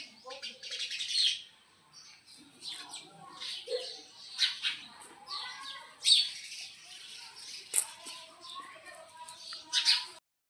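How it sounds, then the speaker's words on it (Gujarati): Sparrows chirping and twittering around a home, a busy run of short, close chirps and tweets repeating irregularly throughout, with occasional louder calls standing out. "જો અત્યારે ચકલા કેવા રમે છે ઘરે"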